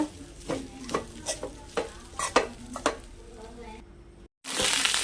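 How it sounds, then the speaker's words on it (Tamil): Rice with roasted garlic stirred in a hot pan, a series of sharp scraping and clinking strokes over a soft sizzle, close and rhythmic, followed by a brief silence and a louder burst of hiss at the end. "இப்போ இது கூடவே தேவையான அளவு சாதம் ஆட் பண்ணிக்கலாம் நல்லா மிக்ஸ் பண்ணி விட்டுடலாம்"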